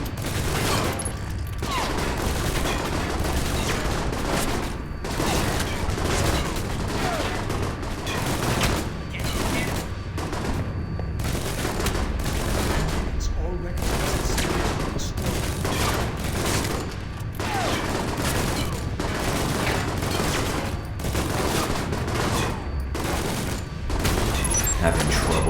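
Automated turrets blaze away in the spy RPG Alpha Protocol, a dense, continuous barrage of gunfire that runs loud and unbroken throughout, with a voice speaking briefly over the shooting.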